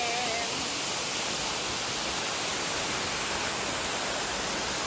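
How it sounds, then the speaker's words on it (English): Kintampo waterfall in Ghana roars as a constant, dense wash of falling water, loud and unbroken from start to finish with no voices rising above it. "The water is falling."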